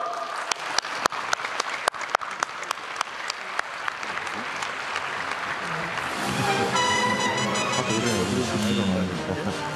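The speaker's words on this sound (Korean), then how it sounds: "다시 한번 큰 박수 부탁드리겠습니다." A press-centre audience applauds the South Korean president after a national report and Q&A, loud dense clapping with a few sharp claps standing out early, swelling into a sustained roar as music joins toward the end.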